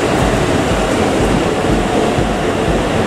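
A steady, loud rumbling roar of a passing Japanese express train fills the scene, constant and broadband with no pauses.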